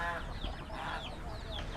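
Hen clucking with chicks in a village coop beside rice fields, short continuous cheeps and clucks, faint and close, with no talk.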